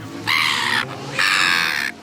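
Two long, harsh, nasal silver gull squawks, each lasting over half a second, loud and close with a brief gap between them.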